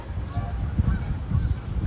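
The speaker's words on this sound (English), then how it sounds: "One thing that came back as the park was closed were the geese." Geese honking at Disneyland after the park had closed, a few rough honks rising over a low outdoor rumble, moderately close and unsteady in rhythm.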